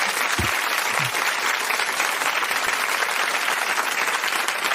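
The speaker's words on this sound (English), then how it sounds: "thanks for the warm applause" An audience at a live show claps warmly, with dense, sustained applause at a steady level throughout and no voices standing out.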